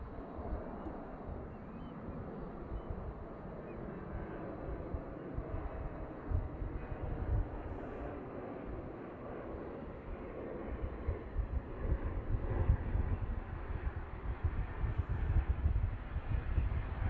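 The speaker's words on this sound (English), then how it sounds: "We got a NetJet Bombardier 350 coming in." NetJets Bombardier 350 business jet landing at Boeing Field, a steady broad engine roar that slowly builds louder toward the end, heard from a distance with wind noise and no talking.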